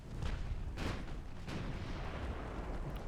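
Naval shell hits in the warship game Ultimate Admiral: Dreadnoughts, set in 1902 with Austrian ships firing on a battleship: a few heavy booming impacts over a continuous low rumble of battle noise.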